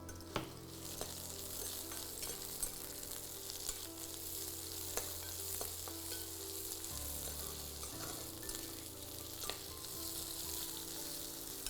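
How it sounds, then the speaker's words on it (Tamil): Onions sizzle steadily in hot oil for a methi matar paneer gravy, a dense, even frying hiss with scattered sharp pops and crackles throughout, close and continuous with no voices. "ஸோ ஆயில் கொஞ்சம் நல்லா சூடானதுக்கப்புறம் இந்த ஆனியனை போட்டுக்கலாம்."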